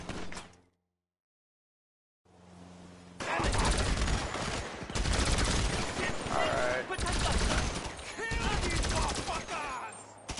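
Gunfire in a GTA 5 Online mission: after a brief silence, sustained loud bursts of automatic weapon fire and rapid shots dominate, with short pauses between volleys.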